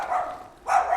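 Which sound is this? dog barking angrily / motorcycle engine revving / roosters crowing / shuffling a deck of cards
dog barking angrily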